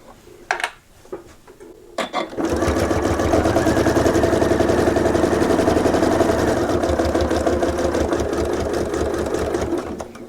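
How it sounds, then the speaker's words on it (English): Sewing machine stitches diagonally through quilt binding for a faux flange, starting after a few clicks and handling sounds and then running as a loud, steady, rapid mechanical whir for about eight seconds, close up with no voices. "Pivot here and then sew diagonally down to this point that's hiding underneath here"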